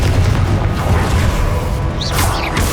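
A Confringo spell explosion in the video game Hogwarts Legacy: a loud, booming rumble fills the whole stretch, with sharper bursts and crackles near the end.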